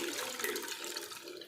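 Water pours steadily for a brief moment into a pot of fish curry, a soft continuous splashing stream heard up close.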